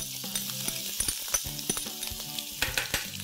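Cumin seeds spluttering with finely chopped ginger and garlic in hot oil for a Chicken Patiala dish: a steady bright sizzle broken by sharp pops and crackles and occasional stirring clicks, close and fairly loud, with no talk.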